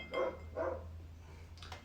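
A dog barks twice in a backyard, the barks faint and distant with a short pause between them, over a low steady hum indoors.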